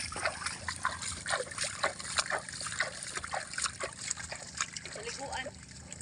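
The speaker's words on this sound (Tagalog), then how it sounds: "ibabad sa tubig" Fruit such as marang or pineapple splashes and sloshes as it is dunked and soaked in water, uneven wet splatters and trickles over several seconds, with voices talking throughout.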